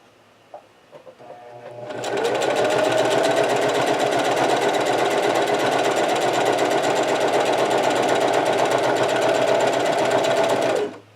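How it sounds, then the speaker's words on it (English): A sewing machine stitches a seam straight down the fabric, starting after a couple of soft clicks and then running at a steady, fast, loud whir for about nine seconds before stopping. "Now we let go of reverse and actually do our seam all the way down."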